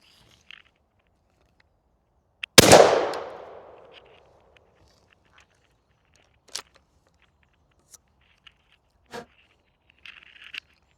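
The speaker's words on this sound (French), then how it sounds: "on passe au dernier tir avec le calibre 12" A single loud 12-gauge shotgun blast at a shooting range, sharp and close with a long decaying tail, followed by a few faint clicks and small knocks in otherwise quiet surroundings.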